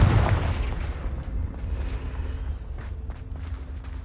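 A Confringo explosive spell in Hogwarts Legacy bursts with a heavy, close boom at the start, then fades into a low, rolling rumble.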